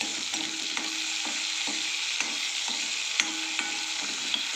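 Onion and coriander sautéing in a pan for jhunka, with a soft continuous sizzle and a regular rhythm of spoon or spatula taps as the mix is stirred.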